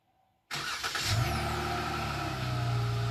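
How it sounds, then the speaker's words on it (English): A Dodge Charger engine cranks and catches after a brief silence, then settles into a loud, steady idle with a slight rev, close and alone. "get the car started here"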